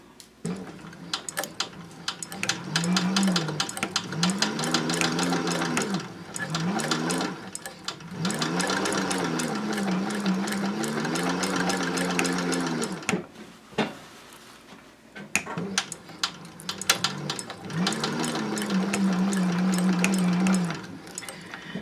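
A sewing machine stitches the seams of a tote bag made from upcycled jeans in long runs of rapid, even needle chatter with a whirring motor, pausing briefly between runs before starting again.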